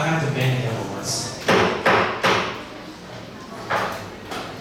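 Several sharp thumps of a gavel banging on a table at a Model UN delegate training session, spaced irregularly with speech around them.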